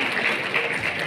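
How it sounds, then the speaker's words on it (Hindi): A crowd at an export excellence awards ceremony applauds to welcome award winners, with dense, steady clapping that fills the whole short moment at an even level. "तालियों से स्वागत करें सभी अवॉर्डीज का"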